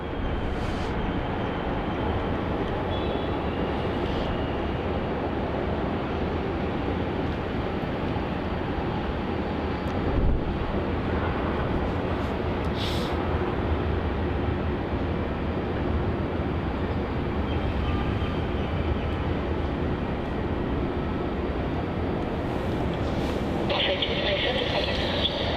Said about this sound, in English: The Virgin Australia 737-800 operating as VA227 to Adelaide